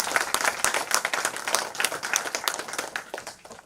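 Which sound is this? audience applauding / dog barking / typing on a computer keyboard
audience applauding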